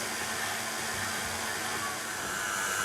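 A stand mixer kneads hot cross bun dough, its motor giving a steady, close whirring hum with no break and no talk.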